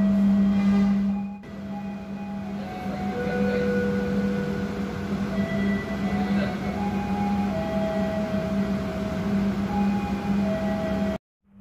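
Steady low rumble and hum inside the Lodaya Premium 2 passenger train as it runs, a continuous near drone with faint tonal whines above it, briefly dipping early on and cutting off at the end.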